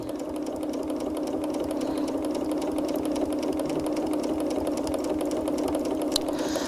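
A sewing machine runs steadily, its rapid mechanical stitching rhythm continuous and fairly quiet, with no voices present.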